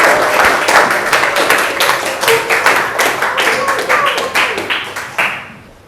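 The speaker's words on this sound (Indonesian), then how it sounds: "Yang lain beri tepuk tangan dulu untuk Haidar." Classroom applause from a group of students, a steady run of dense clapping lasting several seconds before it fades out at the end.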